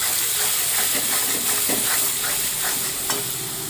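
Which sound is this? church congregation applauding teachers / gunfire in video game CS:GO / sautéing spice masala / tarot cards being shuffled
sautéing spice masala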